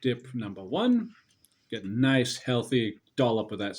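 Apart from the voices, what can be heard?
None of the usual background noises is heard.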